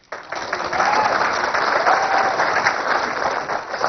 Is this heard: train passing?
no